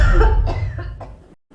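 A person coughs several times in quick succession, close and loud, the bursts fading over about a second and a half.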